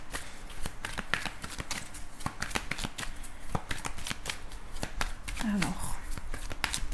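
Tarot cards shuffled by hand: a quick series of crisp, close riffling flicks that repeat steadily, with a voice talking over them.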